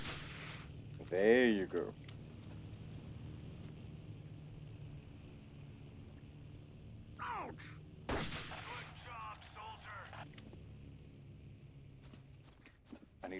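Gunfire in the World War II shooter Battlefield 1942, a few sharp, loud shots and bursts standing out over a low steady in-game drone, with someone talking briefly.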